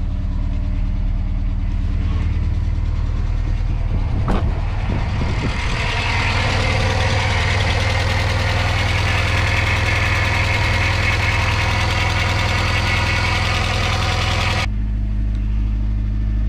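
A used car with a new Golf 2 battery idles steadily and loudly, a persistent rhythmic clacking riding over the engine drone, with a brief sharp knock near the start and a drop in level just before the end.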